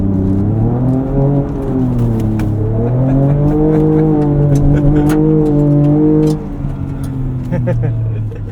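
A 2024 Ford Ranger Raptor pickup truck makes an off-road U-turn. Its engine drones loud and close, with the pitch sliding up and down as the throttle changes, and light rattles and scuffs over the top.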